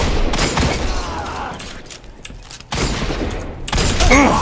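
Rapid bursts of gunfire in the Destiny 2 Crucible multiplayer mode rattle loudly and close, with a lull in the middle before the shots pick up again.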